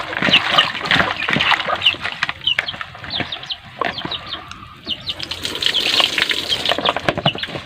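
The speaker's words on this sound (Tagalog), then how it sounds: "Tapos hugasan ulit natin ng mga 2 hugas." Close splashing and sloshing of water with irregular bursts and handling noises as banana blossom is rinsed and swished in a basin.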